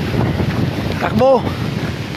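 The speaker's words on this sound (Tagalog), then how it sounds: "tuloy-tuloy pa rin na pagbayo ng hangin mula kagabi hanggang umaga" Strong typhoon wind buffets the microphone in continuous rushing gusts in Daet, with a brief shouted word and a short whistling tone partway through.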